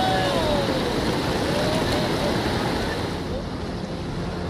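Rushing floodwater of the swollen Dhela river during heavy monsoon rains, a dense, loud, steady roar of churning water filling the whole clip without pause.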